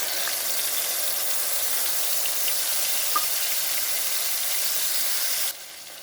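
Cumin, tomato and green chili paste fry in a pan over a low gas flame, giving a steady, close hissing sizzle that runs evenly and then drops off sharply near the end.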